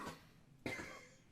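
A person coughs twice, quietly and close, with a short rough cough followed by a stronger one.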